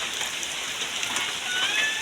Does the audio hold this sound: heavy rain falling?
yes